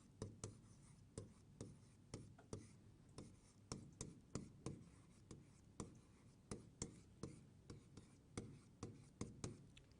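Chalk tapping and scraping across a classroom board as a sentence is written, a steady run of quick, close strokes at a near-even rhythm, faint and alone.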